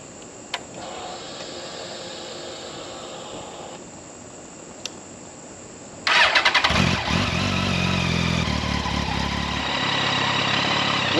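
A Yamaha FZ1 motorcycle starts after a quiet stretch with a couple of small clicks, its engine catching abruptly and then settling into a steady, close, loud idle as it warms up.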